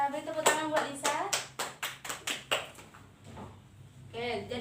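A small group claps for a classmate at a school presentation, about a dozen sharp claps in an uneven burst. Voices talk before and after the clapping.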